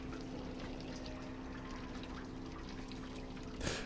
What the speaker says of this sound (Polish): O, rzeka krwi.